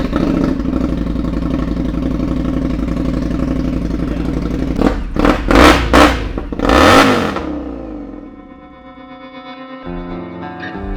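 A custom bobber motorcycle from Kraus Moto fires up close by, its engine running loud and rough before several sharp revs swell in quick succession, then settling back to a lumpy idle.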